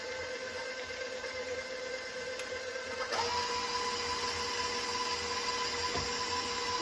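An electric mixer beating chocolate zucchini cake batter with cocoa powder and vanilla, a steady close motor whine that shifts pitch partway through, running continuously without talk.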